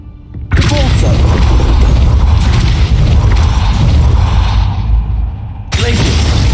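Depulso force spell cast in Hogwarts Legacy, a loud sustained rush of booming, crackling magical energy with thumps and whooshes that fills several seconds, briefly dropping before a fresh burst at the end.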